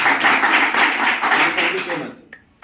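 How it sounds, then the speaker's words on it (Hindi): Applause for a student in a mobile software class, a dense burst of many hands clapping loudly and close for about two seconds before quickly fading out. "इनके लिए एक जोरदार तालियां"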